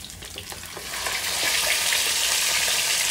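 Bangus milkfish fries in a pan, a sizzle that swells into a loud, steady hiss of spattering oil after the first second, close up with no talking.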